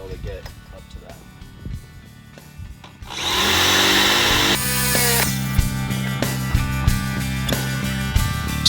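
A power drill whines steadily up close, starting after a short stretch of quieter clatter and then running loud and continuous with small surges.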